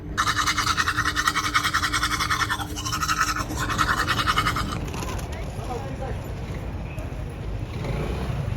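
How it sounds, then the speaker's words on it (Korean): Small toothbrush scrubbing teeth, a fast steady scratchy brushing close to the mic for several seconds, then fading into a traffic-like background rumble. "양치를 하고 갈 거예요. 근데 칫솔이 너무 작아"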